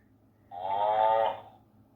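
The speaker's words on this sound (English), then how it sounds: "It makes moo sounds." A toy moo cube lets out a single drawn-out cow moo, about three-quarters of a second long, close to the microphone and loud against an otherwise quiet background.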